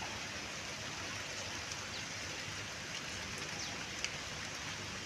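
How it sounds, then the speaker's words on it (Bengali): Light drizzle falling steadily on a rainy morning among trees and plants, a soft continuous hiss of raindrops with a few faint drip ticks, even and unbroken throughout with no voices. "ঝিরঝির করে বৃষ্টি হচ্ছে।"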